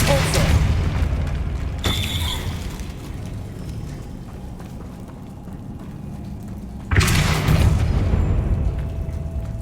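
A Confringo blasting spell goes off in Hogwarts Legacy, a loud booming burst followed by a second heavy blast a few seconds later, each decaying into rumble.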